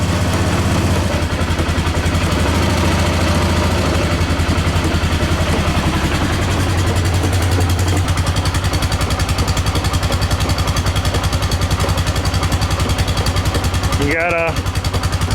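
A 2010 Polaris Sportsman 500 ATV idles steadily and loudly after a cold start, a close, rhythmic chugging engine note with some mechanical clatter. A brief sweeping noise follows near the end.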